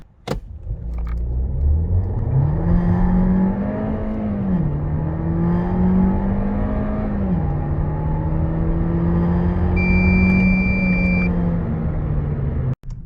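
A Volkswagen T-Roc 1.5 TSI with DSG gearbox accelerates hard during a performance test, engine note rising through the gears with a shift dip, heard loud from inside the cabin.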